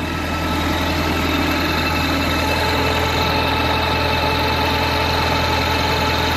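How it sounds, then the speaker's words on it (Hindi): A 25 kVA PTO generator with full copper winding runs steadily off a Mahindra 575 tractor, a continuous loud engine drone with low mechanical hum and vibration and no break or talk throughout. "आप देख सकते हो महिंद्रा 575 पे ये जनरेटर चल रहा है।"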